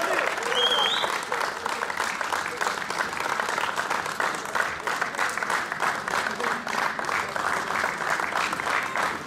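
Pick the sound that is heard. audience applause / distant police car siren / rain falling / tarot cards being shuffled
audience applause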